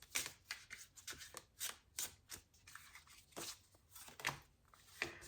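Tarot cards being shuffled by hand, a quick series of crisp riffling and slapping bursts in an irregular rhythm, close and fairly quiet, with no speech.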